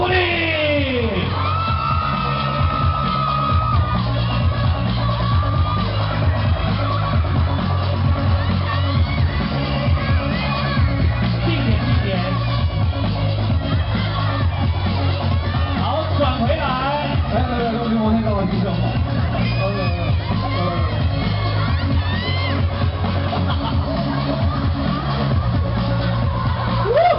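A crowd at a Big Train fashion walk show at Hanshin mall yells and whoops loudly and continuously, mixed with amplified voices and a tonal background.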